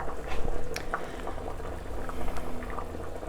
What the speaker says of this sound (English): now we're going to bring this to a boil